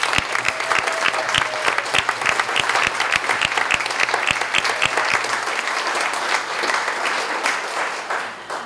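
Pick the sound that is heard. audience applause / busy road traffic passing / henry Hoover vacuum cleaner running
audience applause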